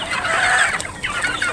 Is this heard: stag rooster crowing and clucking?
yes